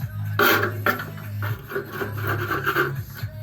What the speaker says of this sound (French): De toute façon, on va la poncer, on va nettoyer.